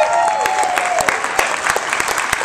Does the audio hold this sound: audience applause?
yes